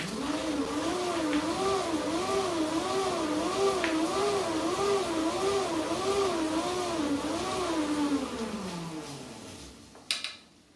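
A hoverboard hub motor on a pedal-driven battery charger bike, charging a single battery with the second motor disengaged, whirs steadily with a wavering, cyclic pitch, then spins down and stops near the end, with a brief clatter.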